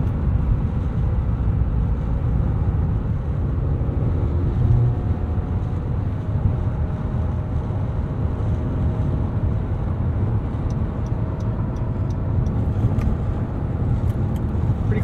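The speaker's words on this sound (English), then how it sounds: "Let's put us into sport mode here on the highway and see how this cruises." A 2022 Acura NSX Type S cruises on the highway in sport mode, producing a steady low engine drone and road rumble with some wind noise throughout, heard from inside the cabin, with no talking.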